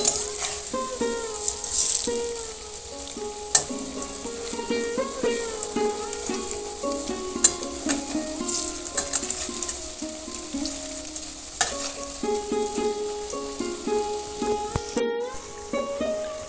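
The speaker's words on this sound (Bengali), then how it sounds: "পুরো উল্টে পাল্টে ভালো করে একদম পুরো লাল লাল করে ভেজে নিয়েছি" Potato snacks sizzle and fry steadily in a pan for the whole stretch, with occasional stirring rattles and a melodic background of music.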